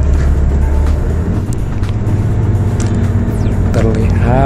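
Interior of a Transjakarta busway bus riding through Setiabudi, Kuningan, South Jakarta, with a loud steady engine drone and road rumble throughout, passing traffic outside and a few faint clicks and squeaks.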